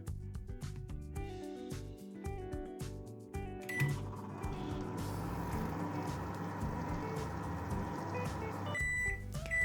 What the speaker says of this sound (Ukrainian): Я ставлю в мікрохвильову піч на 30 секунд.